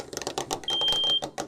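A vibrating bed shaker alarm for fire and smoke alerts rattles and bounces on a hard desktop, giving a close, loud, rapid buzzing clatter in quick pulses, with a steady whine through the middle.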